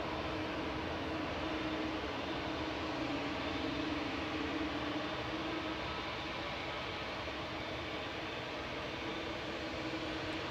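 An airliner departing Manchester Airport, heard as a faint, steady broadband jet rumble with a low engine hum, constant and distant throughout, with no talking.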